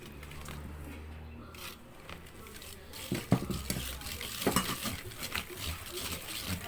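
Icing sugar being mixed into biscuit dough for eggless coconut biscuits, with soft scraping and tapping stirring sounds that turn more clattery toward the end, quiet and close.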